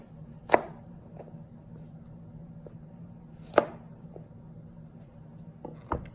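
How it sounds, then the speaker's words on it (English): Knife halving ginger and garlic on a cutting board, with three distinct chops spaced a few seconds apart over a low steady room hum. "I'm going to cut up my ginger into more manageable pieces. I'm going to do the same with my garlic as well."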